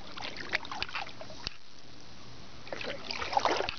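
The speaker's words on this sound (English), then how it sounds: "Going in a circle, paddling with one hand." Kayak paddled one-handed in a slow circle around a cove on Table Rock Lake, with soft intermittent dips and water trickles near the start and a busier run of splashes at the end, a quiet stretch in between.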